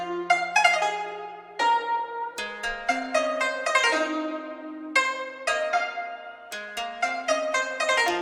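An Asian-inspired trap beat plays, with plucked, harp-like melodic notes washed in reverb over a steady low bass tone. The layered melodies run continuously for several seconds at moderate volume, with no voices.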